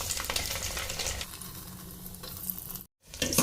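Garlic sizzles and crackles in hot oil for a tadka, a steady close frying hiss that cuts out abruptly near the end before resuming.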